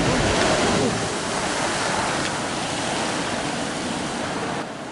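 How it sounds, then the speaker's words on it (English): Strokkur geyser erupting in Iceland: a steady, loud rushing roar of water and spray, broad and noise-like throughout, easing slightly near the end, with no talk. "The Strokkur geyser is quite active and erupts every 5 to 10 minutes."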